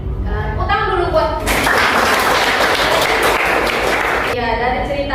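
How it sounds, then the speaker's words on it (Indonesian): Loud classroom applause from a group of students swells into a dense burst of clapping for about three seconds, with a teacher's voice speaking just before and after it. "Tepuk tangan dulu buat."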